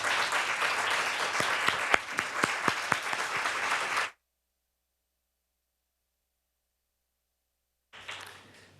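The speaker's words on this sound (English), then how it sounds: "Can we get a round of applause for our wonderful panel today?" Audience applause for a panel at a Juneteenth dialogue event, a dense, steady wash of clapping lasting about four seconds before cutting to silence, then a brief burst of noise near the end.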